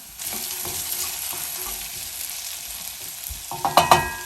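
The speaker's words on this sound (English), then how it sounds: "we're going to cook our potatoes for about 2 minutes" Potatoes frying in a pan before a crustless quiche is made, a soft steady sizzle with light stirring taps that grow louder with scraping strokes near the end, heard close without talking.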